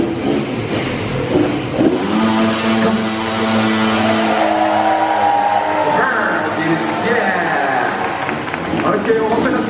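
Stunt cars revving their engines at the Moteurs... Action! Stunt Show Spectacular at Disneyland Paris, a steady loud roar with rising and falling pitch, with people talking over it.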